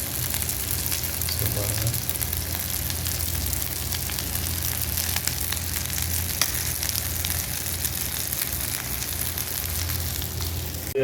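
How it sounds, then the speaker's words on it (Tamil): Fish fries in a pan of hot oil with a dense, continuous crackling sizzle that stays steady throughout, while a voice briefly speaks over it. "ஒரு சைடு நல்லா வந்துடுச்சு, இன்னொரு சைடு நல்லா ஃப்ரை ஆகும்."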